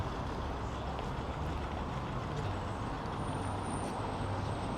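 Busy road traffic on a Glasgow city street near the River Clyde rumbles steadily, with trucks passing close and a brief high hiss of air brakes partway through.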